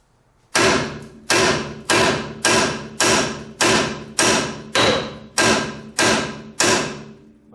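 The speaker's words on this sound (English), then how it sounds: "we're going to take a 3-pound sledge once again and tap the side" A 3-pound sledgehammer strikes the side of a Ford F-150 steering knuckle ten times in a steady rhythm, each blow a loud, sharp metallic clank with a short ringing decay, close and alone.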